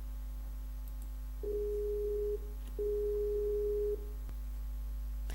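A phone's ringback tone: two long, steady beeps separated by a short pause, over a faint constant low hum.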